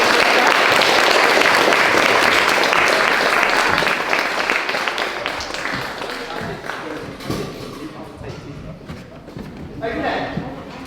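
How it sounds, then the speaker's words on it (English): A final round of applause at a school leavers service in a church, loud, dense clapping from a crowd that gradually thins and fades, with voices and some thuds rising as it dies away. "can we have a final round of applause for amazing service?"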